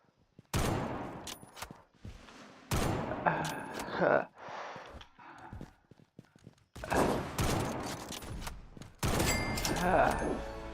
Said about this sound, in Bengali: মুখের সামনে গিয়ে স্নাইপার শট, উপর থেকে স্নাইপার শট।